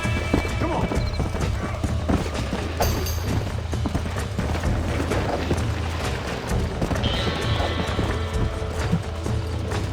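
Horse hooves clip-clop at a steady gallop with whinnies and neighs in Red Dead Redemption gameplay on PC, loud and continuous, with game sounds mixed in.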